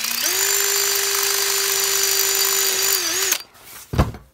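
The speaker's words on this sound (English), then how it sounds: "I need to drill this out a little bit wider." A power drill whines at a steady high pitch for about three seconds while widening a bolt hole on a 1992 Toyota Corolla DX wagon, then winds down, followed by a short clunk.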